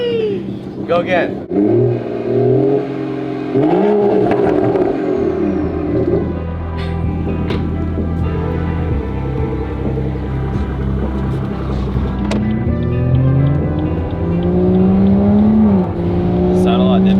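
BMW 340i with B58 engine and AWE catback exhaust revs up and down repeatedly, loud rising and falling engine tones close by, with people talking over parts of it.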